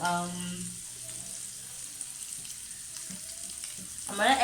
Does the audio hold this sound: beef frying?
yes